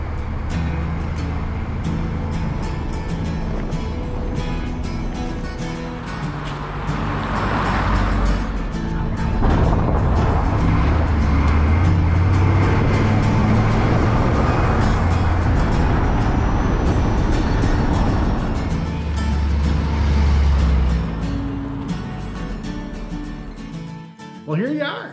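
An old car that sat unused for 28 years runs on its first short test drive, its engine drone rising and swelling steadily from inside the cabin, with occasional talking.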